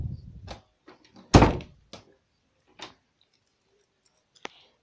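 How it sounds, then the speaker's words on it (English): A door slams hard indoors, one loud close thud standing out among a few lighter knocks and bumps, followed by a sharp tick near the end. "He wants to see me slam in this door."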